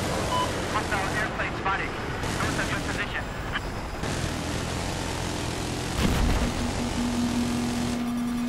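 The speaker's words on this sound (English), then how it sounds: "Chopper taking off from their spawn." A helicopter's rotor engine roars steadily as it takes off in Battlefield 4, amid game noise and scattered gunfire, with a voice talking over the din.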